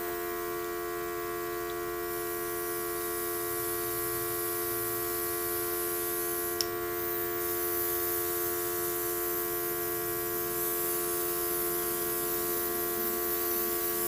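Luminess Legend airbrush spraying foundation onto skin, a continuous fine hiss over a steady electrical motor hum, unbroken and close throughout.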